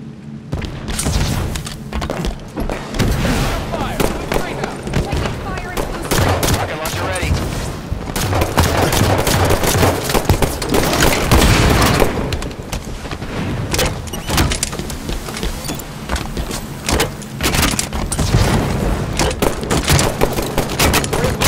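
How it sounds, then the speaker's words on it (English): Dense, loud gunfire and booming blasts fill an Arena Slayer match in Halo 5, with repeated sharp shots layered over a continuous battle din and brief game voice callouts. "Hostile fire!"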